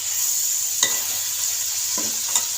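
Tender pre-cooked beef goes into a pot for yakhni pulao, bringing a steady soft sizzle with a few sharp scrapes and clinks of stirring at scattered moments.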